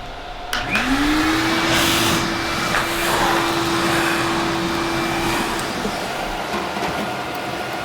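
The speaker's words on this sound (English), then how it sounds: "Okay, now vacuum." A vacuum cleaner starts up and runs steadily and loud for several seconds, its motor whine rising quickly then holding, during cleanup after building a Lamborghini-style cooler.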